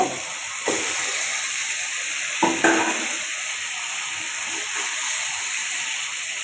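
Meat added to hot spiced oil for a Qurbani mutton curry, frying with a steady loud sizzle and hiss, with a few clattering stirs and scrapes of a spoon in the pan.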